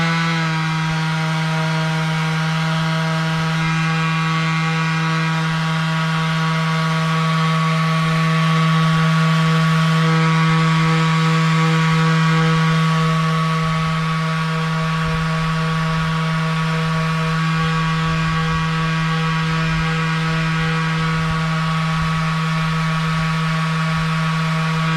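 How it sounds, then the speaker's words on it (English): Power sander fitted with 120 grit sandpaper working over wooden coasters that are bubbly with Danish oil, a steady loud whine with strong harmonics running continuously for the whole stretch, no talking. "120 grit on the sander. I'll see how this goes now."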